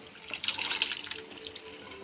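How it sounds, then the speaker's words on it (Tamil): Boiled chickpeas are poured together with their cooking water into a pan of chana masala, producing a short, close splashing pour that swells and then tapers off. "அந்த சென்னாவை பாயில் பண்ண அந்த தண்ணியோடு அப்படியே சேர்த்துக்கோங்க."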